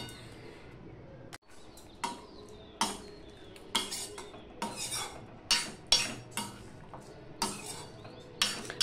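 A spoon scrapes and clinks against a pan while mixing a vegetarian drumstick and potato curry with lentil dumplings, mustard and poppy seed paste and tomato, in a run of close, irregular clatters with a brief pause early on.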